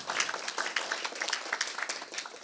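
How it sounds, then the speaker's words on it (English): Conference audience applauding at a sustainable investing session, a room of many hands clapping in a steady, moderately loud patter. "I think we should also, again, give them a big round of applause."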